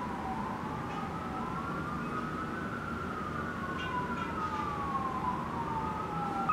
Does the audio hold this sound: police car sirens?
yes